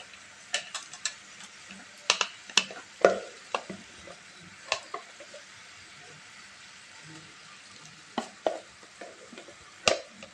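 Ground lentil paste being stirred and fried in a pan with ginger and green chilli, soft intermittent scrapes and taps of a spatula over a faint sizzle, with quiet gaps between strokes.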